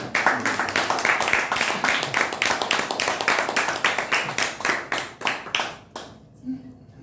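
Steady applause from an audience, many hands clapping continuously, then fading out quickly near the end.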